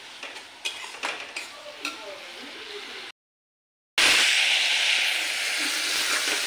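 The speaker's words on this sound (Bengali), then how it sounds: "এখানে দিয়েছি হলুদ লবণ দিয়ে এই যে মশলাটা একটু কষাচ্ছি" Spices with turmeric and salt fried and stirred in a pan for egg curry, with a steady loud sizzle and hiss after a short pause, preceded by scraping stirs and clinks.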